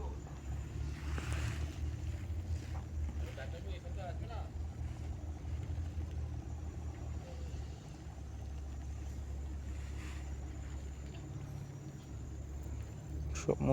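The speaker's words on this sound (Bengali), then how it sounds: "জাহাজে তো শব্দ হচ্ছে" Ship or vessel engine near the shore of a canal at a shipbuilding site in Purba Medinipur, a steady low rumbling drone, faint and continuous, with wind and distant background sounds.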